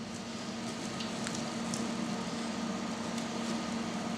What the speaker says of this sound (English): obviously water boiling, hard as you can, good bit of salt